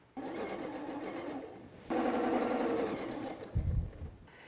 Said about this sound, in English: and then sew the purples together